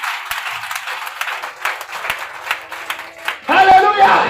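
Church congregation clapping and applauding during a worship service, a steady crowd applause that swells louder near the end, with voices mixed in.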